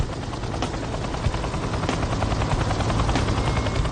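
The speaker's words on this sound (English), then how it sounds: "The Super Pumas are one of the workhorses of the North Sea oil industry." A Super Puma helicopter used in the North Sea oil industry flies close by, its rotor blades producing a loud, continuous rapid thumping chop over a heavy engine drone with no voices.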